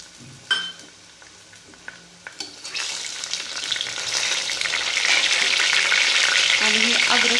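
Green chilli and tomato are dropped onto fried onion in a pan while making matar pulao. A few utensil clinks come first, then a loud sizzle erupts and builds into a steady, close frying hiss.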